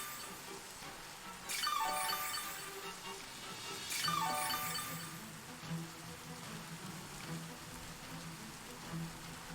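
Steady rain weather in the Pokemon Scarlet/Violet video game, a constant wash of falling rain with game music and two brief swelling effects layered over it, no talk.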